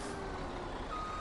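Truck reversing in the Farming Simulator video game with a snow mod: a steady engine drone under a thin, continuous reverse-warning tone, loud and even for the whole brief moment, no talk.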